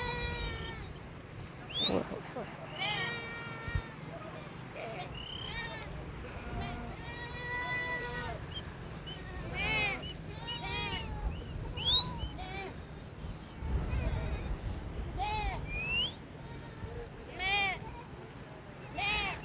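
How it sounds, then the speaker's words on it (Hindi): A large herd of sheep and lambs bleats repeatedly, with many overlapping calls near and far, some high and wavering, over a windy background while someone talks throughout. "इसमें देखें दो एक भेड़ें भी हैं, ये भेड़ों के छोटे छोटे बच्चे"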